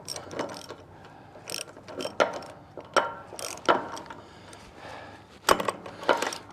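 A socket wrench ratchets on a bolt in a series of close, crisp clicking bursts, each a quick run of pawl clicks separated by short pauses, with no talk.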